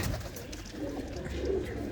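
Pigeons in a loft coo softly and close by, a few low, rolling calls over a quiet background, with nobody talking.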